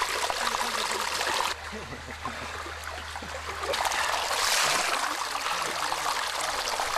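Crystal clear fresh water trickles in a shallow stream feeding a small pond in a gully behind a beach, a steady close babble with soft splashes that swells and eases.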